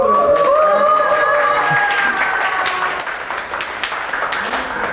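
Audience applause at a monthly education session for a union, welcoming a speaker on refugees and racism: dense, steady clapping from a crowd indoors, loud at first and tapering slightly over several seconds, with no talk over it.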